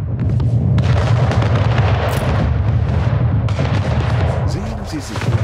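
Cannon fire against a ship during a naval battle in Anno 1800: loud, continuous rumbling barrages and booms that fill the whole clip, with a voice speaking faintly beneath them.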